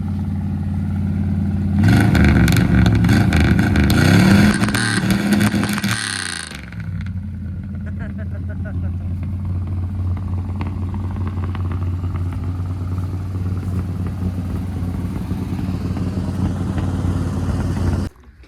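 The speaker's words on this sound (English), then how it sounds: "I ain't heard this thing running forever, man. Give it some gas." A 1968 Dodge Polara V8 running in a garage: a loud rev burst with rattly clatter for a few seconds, then the engine settles into a steady rough idle with a low rumble, no talking.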